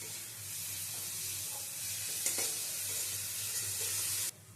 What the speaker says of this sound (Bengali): নেড়ে চেড়ে নেব। এটাও একটু ভাজা ভাজা করে নেব।